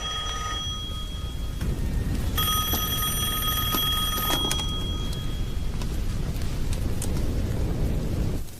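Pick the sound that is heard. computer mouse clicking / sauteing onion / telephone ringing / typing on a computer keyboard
telephone ringing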